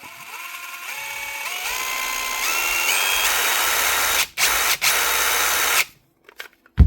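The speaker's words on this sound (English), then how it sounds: "That's how you get your Dewalt impactor running again if the trigger stops working properly." A Dewalt cordless impact driver, just fixed after a trigger fault, whirs up through rising speed steps, runs steadily with two brief stops, then cuts out near the end. It sounds close and loud with no talk.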